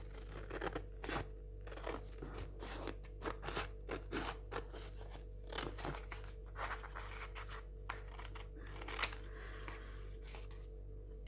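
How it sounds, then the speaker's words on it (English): Repeated snips and crisp rustles of large scissors cutting paper invoices, close and fairly quiet, in an irregular rhythm of short cuts. "I think I'll use my big scissors for this. So I'm just going to cut"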